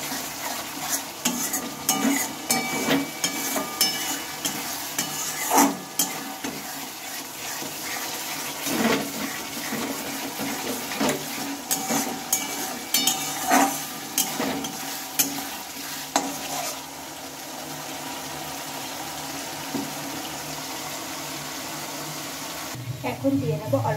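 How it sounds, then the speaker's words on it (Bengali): Spice paste being stir-fried in a pan for a Bengali egg dish, with continuous sizzling and frying broken by repeated spatula scrapes and clinks against the pan, close and moderately loud. "আর ভালো করে মশলাটা কষিয়ে নিতে হবে যাতে করে মশলা থেকে গন্ধটা একদম চলে যায়।"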